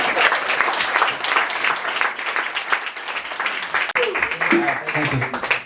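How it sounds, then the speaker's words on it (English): A story slam audience in Vancouver bursts into steady, dense applause that fills the room, easing briefly near the end as a voice breaks in over the clapping. "Now you can clap"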